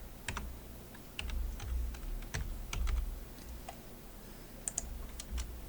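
Computer keyboard typing in a word processor, a quiet run of irregular clicking keystrokes in short bursts and pauses, close and fairly soft, with no talking.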